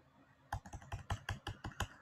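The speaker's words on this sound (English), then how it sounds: "So I'll just be typing my password." About a dozen quick keystrokes clatter on a computer keyboard as a password is typed, close and fairly quiet, in an uneven rhythm with no talking.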